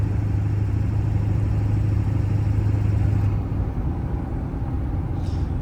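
A 1996 Ford F250 XLT with the 7.3 PowerStroke diesel idling, a steady low rumbling drone with a strong hum that eases slightly partway through, heard alone without talk.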